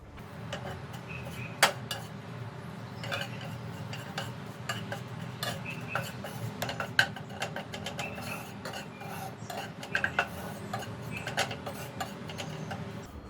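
Makhana (fox nuts) tossed in ghee in a pan, giving a steady low rustle with frequent light clinks and taps of utensil against metal, fairly close, no voices.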